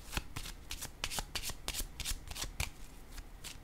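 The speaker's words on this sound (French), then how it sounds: "Je vais déposer une carte sur vérité." Playing cards are shuffled and laid down at close range, giving a quick series of crisp riffling flicks and soft slaps in a steady rhythm, fairly quiet, with no talk over them.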